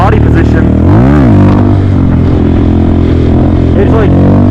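A Grom motorcycle engine revs and rises in pitch during a wheelie, loud and close, with a strong surge around the first second before settling into a steady drone, with a person talking over it.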